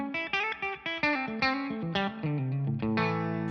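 An electric guitar through a modeled Suhr Bella amp rings out in distorted, chorus-tinged single notes and short phrases, each attack sharp and sustained with reverb, moderately loud and with no voices.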